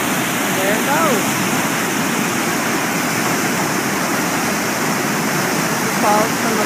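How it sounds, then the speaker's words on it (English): A large waterfall rushing, loud and steady broadband roar of falling water that fills the whole stretch, with brief faint bird chirps at the start and end. "Oh, there's the big falls over there. How that water rushes."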